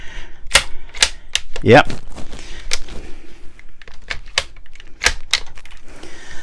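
Stainless steel bolt of a Tikka T1X 17 HMR rifle being worked, giving several sharp mechanical clicks and clacks, close and fairly loud, with a brief spoken word in between.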